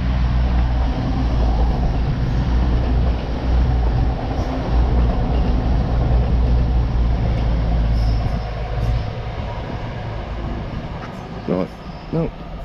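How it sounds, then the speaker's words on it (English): A train rolls past nearby with a steady low rumble and clatter of carriages that holds for most of the stretch, then eases as a voice briefly speaks near the end. "Train."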